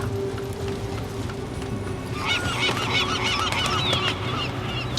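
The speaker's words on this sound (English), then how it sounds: "Seagulls." Seagulls calling in the Dubai level of the video game Deus Ex Mankind Divided, a cluster of honking squawks over a low rumbling ambient bed, appearing after a couple of seconds and repeating.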